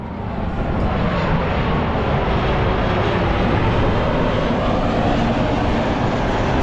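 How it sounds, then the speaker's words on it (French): A plane passes low overhead near a moored sailboat, its loud, steady jet roar filling the whole stretch without letup and with no voices. "C'est un cauchemar ces avions."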